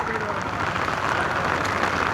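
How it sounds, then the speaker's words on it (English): Steady drizzle and rain falling in the forest on Merthi Gudda hill, a dense, even patter on leaves and surfaces, close and continuous with no voices. "it's been drizzling and raining non-stop"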